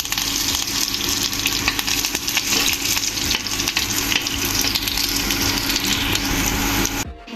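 Cumin seeds, chopped green chilli and onion fry in hot oil for a Kerala-style sambar, a loud, continuous close-up sizzle with crackles that cuts off abruptly near the end.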